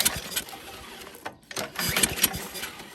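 A 5 hp Tecumseh engine on a vintage MTD tiller is pull-started, its recoil cord rasping in repeated strokes with brief chugging turnover, close and fairly loud but never catching.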